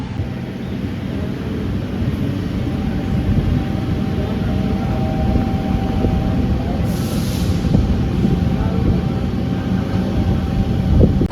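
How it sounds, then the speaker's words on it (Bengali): A train rumbles steadily along the rails near Kharkopar station, Navi Mumbai, a continuous loud roar with faint rattling and a brief hiss partway through. "আমাদের ট্রেন খারকোপার স্টেশন ছেড়ে দিল।"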